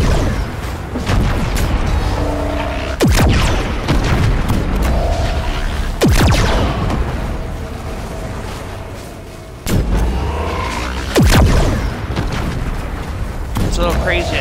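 Gunfire from the Fortnite video game: several heavy booming shots spaced a few seconds apart over a dense, noisy game soundscape, with talking throughout.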